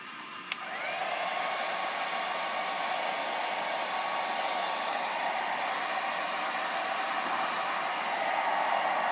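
A heat gun shrinks heat-shrink tubing over soldered terminals on a Nissan 240SX chassis wiring harness. After a brief click it starts up and becomes a steady, close blowing hiss that continues unbroken, with no voices.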